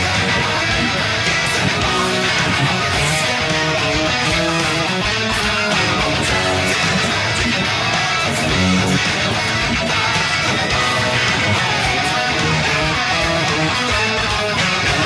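A rock band plays a chorus variation of a song with electric guitars, and a funky wah guitar overdub sits slightly to the right. The mix is dense and continuous, loud and sustained throughout.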